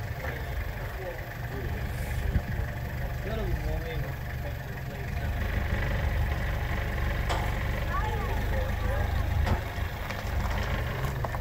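An International Harvester tractor with a V6 Cummins diesel engine runs with a low, steady rumbling idle throughout, while people talk nearby over it.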